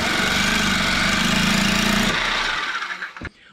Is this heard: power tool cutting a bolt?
yes